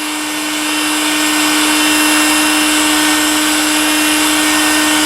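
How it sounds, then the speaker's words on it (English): Heat gun blowing hot air around speakers being removed from a train layout, a loud, steady whirring motor hum with a rushing airflow hiss, close and uninterrupted. "I just take a heat gun, and a hair dryer may work, but these speakers here, we're just going to heat around them"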